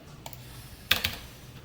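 Two quick bursts of computer keyboard keystrokes, a few close clicks clustered together, while coding in a Java text board program, alone with no talk.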